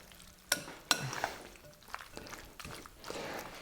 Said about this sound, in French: Et on va mélanger.